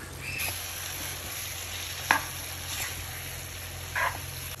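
Kerala-style chicken roast stirred in a pan, with a steady low sizzle broken by a few soft scraping strokes of the spoon, close and moderately loud.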